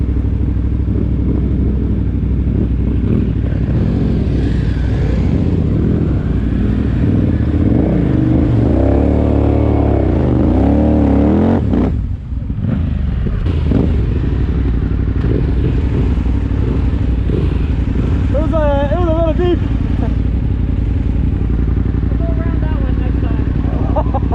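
A KTM Adventure and a Harley-Davidson Pan America ride through trail mud. Their engines rumble and rev continuously, with voices talking over the motor noise throughout.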